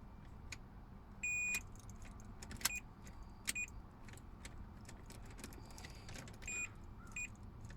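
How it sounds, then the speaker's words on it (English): A car key is jiggled in the worn ignition switch of a 1994-97 Honda Accord, giving soft scattered metallic clicks and jingles with a few brief electronic dashboard chimes over a quiet interior. "Now if we jiggle the key enough and play with it"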